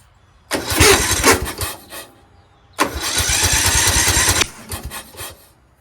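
Repowered MTD engine on a Gardenway Troy-Bilt machine, fitted without a solenoid: two loud bursts of cranking and running, the second one longer and steadier, with sputtering pauses and no talk.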